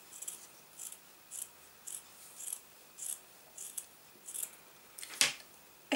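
Small scissors snip the tip of a thin red lace in a series of about eight short, evenly spaced close-up cuts, with a sharper, louder snip near the end, in a quiet room with no talking.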